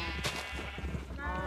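A sheep bleats in the Minecraft video game, one faint nasal call rising over steady background game sound and a low hum.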